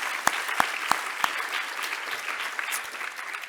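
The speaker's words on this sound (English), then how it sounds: "Let's give a round of applause for that." An audience at a 25th anniversary celebration event claps. The applause is steady and moderately loud, with a few sharp individual claps standing out near the start.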